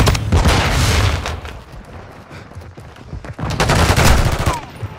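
Loud bursts of automatic gunfire and booms from a Call of Duty Modern Warfare II domination match on the Dome map, dense rapid shots in two heavy waves with little pause between them.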